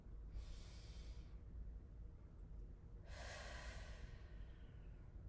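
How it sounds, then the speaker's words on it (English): Two deep, slow inhaling breaths during a neck and shoulder stretching exercise, each a soft airy rush lasting about a second, separated by a quiet pause. "as you inhale, see if you can bring your breath towards your back"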